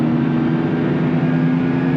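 Rally car powering out of a corner at the Nogaro circuit, the engine holding a loud, steady droning roar from inside the cabin, continuous and close, with no voices.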